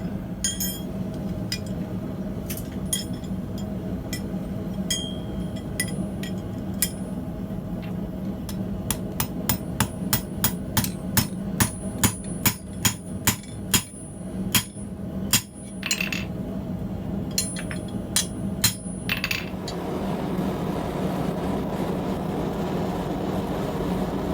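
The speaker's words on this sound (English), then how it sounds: "It allows me to tap open the jaws left to right without deforming the jaws" Steel hammer tapping on the jaws of a modified tusk-style blacksmith tong, a long series of sharp metallic clinks that speed up into a quick, ringing run midway, then stop, with a steady background hum.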